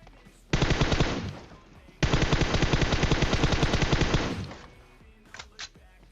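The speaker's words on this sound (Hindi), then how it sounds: "और आगे गोलियां चल रही है बहुत ही दबा के।" Sustained automatic gunfire in the PUBG Mobile battle royale game, two long rapid bursts of close, loud shots, the first about one and a half seconds and the second over two seconds, followed by a few faint distant shots.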